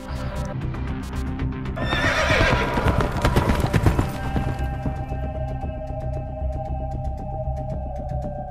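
A horse whinnies loudly and its hooves clip-clop in the video game Metal Gear Solid Peace Walker, a sharp neigh near the start followed by steady hoofbeats that fade into quieter game ambience.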